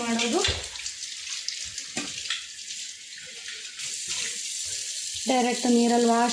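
A brass pooja vessel is rinsed under a running tap, with splashing water and clinks of metal interrupted by pauses, and the flow swells louder near the end.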